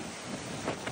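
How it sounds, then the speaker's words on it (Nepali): Strong wind blows across a hiking trail past farm plots, a soft, steady broadband rush with slight gusting swells near the end. No one speaks. "यस्तो हावा चलिरहेछ"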